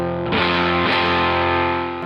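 Electric guitar through a gain pedal setting called Faded Embers and Twin, giving a compressed, spluttery distorted tone; a sustained chord rings out loud and alone with a second strum just before one second.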